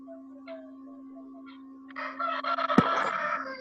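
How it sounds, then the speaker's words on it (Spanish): Rooster crowing in the background of an online class session, a single loud cock-a-doodle-doo rising from a low electronic hum and lasting a couple of seconds. "No, y es el gallo."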